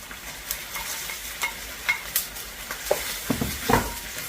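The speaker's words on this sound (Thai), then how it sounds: "ขยี้ขยี้นะคะ ให้ตัวหมูสับเนี่ยค่ะ เขารวมตัวกับน้ำแกงเป็นชิ้นเล็กๆนะคะ" Minced pork being stirred and broken up in coconut milk curry sauce in a pan, a soft continuous sizzle with scraping strokes and a few sharper clinks of the utensil against the pan near the end, close and moderately loud.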